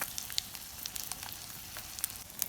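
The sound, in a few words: egg pitha frying in a pan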